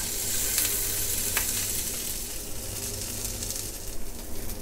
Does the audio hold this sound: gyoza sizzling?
yes